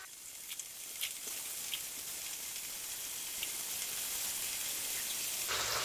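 Washed, cut steak strips sizzle in hot oil in a pan, a steady faint crackle with a few sharper pops, heard alone without talk.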